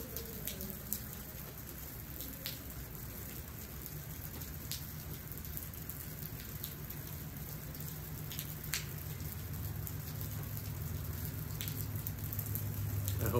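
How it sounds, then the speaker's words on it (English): Steady rain falls outdoors in a soft, continuous hiss with scattered sharper drips and taps on surfaces. A faint low rumble runs underneath, and no voices are heard. "everyone loves a good clip of rain, so I'll be quiet for a few and just let the rain sit."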